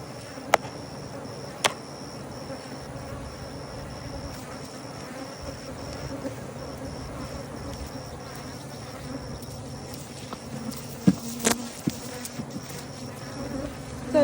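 Honey bees buzz steadily around an outdoor hive during spring beekeeping, a continuous droning hum with a few sharp clicks and knocks scattered over it, no talking.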